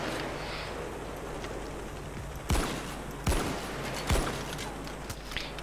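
Sniper rifle shots in the video game Payday 2, three sharp separate cracks spaced about a second apart over a dense, noisy background.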